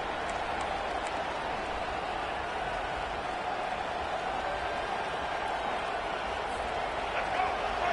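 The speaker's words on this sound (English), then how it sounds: "Listen to this crowd just shaking the girders of this place, trying to help their defense." A stadium crowd at a USC versus Colorado college football game roars in a constant, dense wall of noise for eight seconds without letup, heard from within the stands with an announcer's voice faintly underneath.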